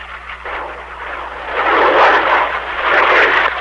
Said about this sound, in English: Boy, look at that plane come down.